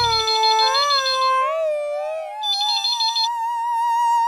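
A melodic electronic ringtone plays continuously after a call is placed to a shop phone, close and steady with warbling tones and no talking.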